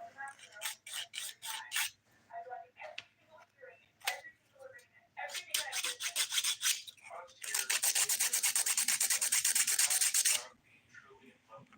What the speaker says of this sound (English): I'm actually going to flip my file to the 100 grit side to start